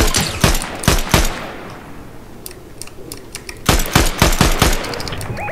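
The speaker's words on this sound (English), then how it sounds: "They're shooting down here." Bursts of rapid gunfire in a Fortnite Zero Build match, with loud clusters of shots at the start and again near the end and a quieter stretch between.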